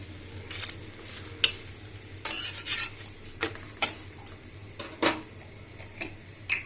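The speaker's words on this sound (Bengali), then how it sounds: "এখানে আমি আগে থেকে প্যানটা বসিয়ে রেখেছি, দিয়ে দিলাম পরোটাগুলো" Lachha paratha placed on a preheated pan in a home kitchen, with soft sizzling under intermittent clinks and scrapes of utensils on the pan, close and fairly quiet.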